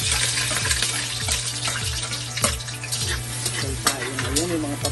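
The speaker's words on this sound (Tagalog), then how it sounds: "ilalagay na natin ang ating bawang at sibuyas" Garlic and onion sauté in a pan on medium heat, a steady loud sizzle broken by repeated scraping strokes of a utensil stirring, with a low constant hum underneath and no talking.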